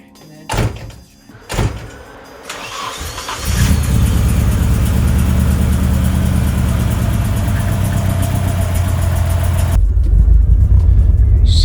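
A Nissan S13 sits close by. Two door thumps come first, then its engine cranks and catches. It settles into a loud, steady idle that runs for several seconds before a slight change in tone near the end.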